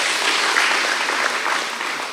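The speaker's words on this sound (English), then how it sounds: "A big round of applause." Audience at a school awards ceremony in Mombasa breaks into a dense, steady round of applause, loud and continuous with no talking.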